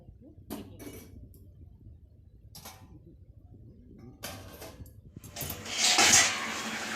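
A lid is set over a pan of simmering fish gravy with a couple of light metallic clinks and knocks, followed by a louder rushing hiss of bubbling steam near the end, close up.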